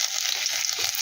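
Cumin seeds sizzle and crackle in hot oil in a karahi, a steady bright frying hiss close up, with no talking.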